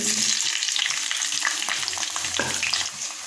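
Chopped onion hits hot oil already fragrant with bay leaf, cardamom, cinnamon, cloves and a little sugar, giving a loud, steady sizzle with scattered crackles and a few stirring scrapes, close and with no one talking.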